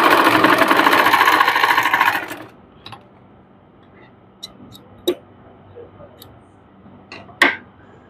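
A sewing machine stitches a trouser hem, a loud close whirring burst for about two seconds that cuts off, followed by sparse light clicks and taps of the machine and fabric.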